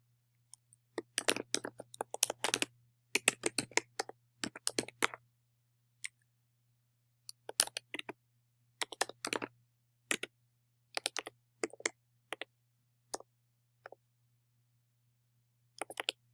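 A computer mouse clicks in scattered single and double clicks while someone works through a Google Forms page, crisp and close over a faint steady hum.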